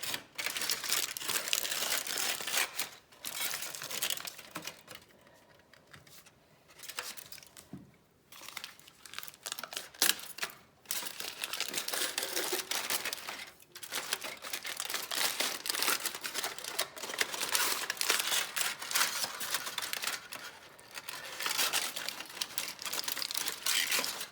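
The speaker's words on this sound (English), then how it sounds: "if you buttered it up enough and you go slow enough, you can peel the foil off" Foil being slowly peeled off a slab of almond crunch toffee, a close, continuous crinkling and crackling with brief pauses, no talk.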